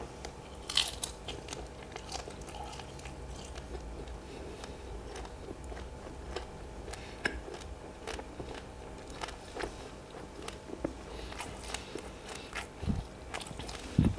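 Roast suckling pig skin being bitten and chewed up close, with repeated crunchy bites and crackly chewing throughout, no talking.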